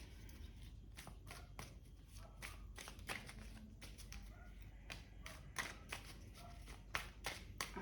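Bali-themed playing cards used for a tarot reading are shuffled by hand, giving a string of quick, crisp riffling snaps and taps at an uneven rhythm, close and quiet.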